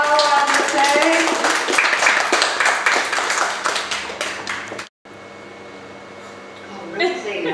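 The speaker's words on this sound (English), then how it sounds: "And also a massive round of applause for Christian Evans, Robin Hinnett, and Nich" An audience at a book launch event claps for about five seconds in a lively, rattling burst of applause, which stops abruptly before people begin talking.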